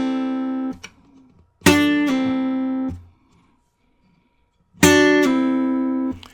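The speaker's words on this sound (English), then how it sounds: "pull them off at an angle, you'll actually pull the strings and sound them." Blues guitar lick played without a pick, the second string sounded by pulling off at an angle; a few sharp plucked notes ring out in separate bursts, loud and close, with silent gaps between them.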